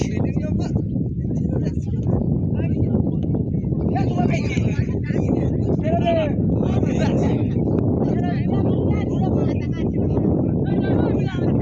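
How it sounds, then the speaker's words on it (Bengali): Wind gusts across an open field on a river island where a football match is being played, buffeting the microphone with a continuous low roar under people talking throughout. "যেমন হাওয়া হচ্ছে তেমন ধুলো উঠছে"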